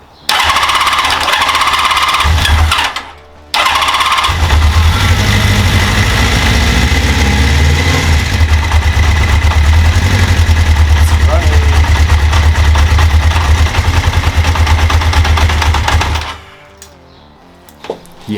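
A Honda CB650 motorcycle engine idles on choke, a loud, steady low rumble running nearly the whole time, dropping out briefly near the start and cutting off toward the end.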